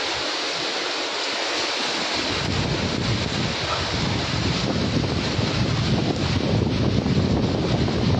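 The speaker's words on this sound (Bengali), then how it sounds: "ঝোড়ো হাওয়ার পাশাপাশি শিলাবৃষ্টি চলছে এই মুহূর্তে, তার আওয়াজও কিন্তু আপনারা উপলব্ধি করতে পারবেন।" Stormy wind with a hailstorm in Islampur makes a loud, dense, continuous roar that is quieter for the first two seconds, then swells and holds steady.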